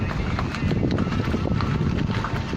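Horses on a high mountain meadow in Uttarakhand, their hooves clip-clopping steadily and loudly without pause against a heavy wash of outdoor noise.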